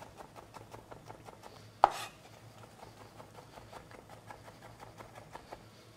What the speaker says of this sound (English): Cut that in half, trim the ends off, and then nice thin slices on a bias.